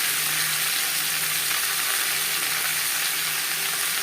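Potatoes and tomatoes frying in a pan, a constant loud crackling sizzle filling the whole moment, close and unbroken, no talk.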